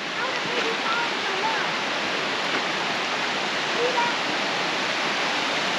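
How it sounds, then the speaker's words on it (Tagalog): A waterfall at Two Medicine Lake roars in a constant broadband rush of falling water, steady and fairly loud, while people talk quietly over it. "So, narito na kami sa falls."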